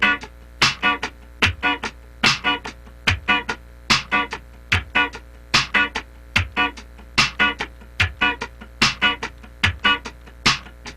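A funk rhythm guitar plays percussive sixteenth-note strums with upstrokes on the second sixteenth, sharp choppy scratches in a tight, steady groove, close and alone.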